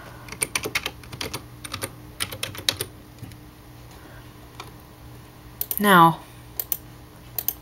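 Typing on a computer keyboard: bursts of quick, crisp key clicks in short rhythmic runs separated by pauses, close and moderately loud, with a brief spoken word breaking in near the end before more taps.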